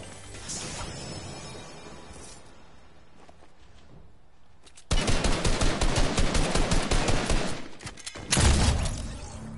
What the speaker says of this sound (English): I think those shots might have been at me